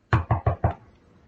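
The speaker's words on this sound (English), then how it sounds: "the wolf ran straight to her grandmother's house and knocked on the door" Four quick, evenly spaced knocks on a wooden door, close and fairly loud, each a sharp thud with a short decay, followed by quiet.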